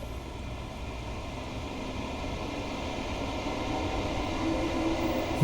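Trains rumble past in the Train Sim World 2 London commuter game, a steady low mechanical drone with rail hum that slowly swells louder toward the end, with no talking.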